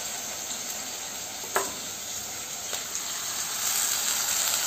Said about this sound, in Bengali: তো চলো এটা ভালো করে আগে একটু ভাজা ভাজা হয়ে যাক।